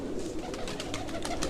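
Pigeons cooing softly and continuously inside a breeding loft, a low murmuring burble close by with no talk.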